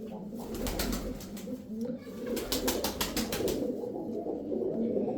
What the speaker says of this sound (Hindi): ये कबूतर है वाइट आंखों में